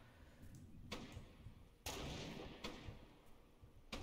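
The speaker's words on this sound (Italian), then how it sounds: "Gli spari sono molto vicini." Several sharp video game gunshots crack out at irregular intervals, one heavier blast in the middle, over a low rumbling background with no talking.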